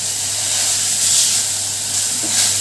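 Grated carrots frying in a hot pan for carrot halwa as milk is poured in, giving a steady loud hiss and sizzle of steam with faint stirring underneath.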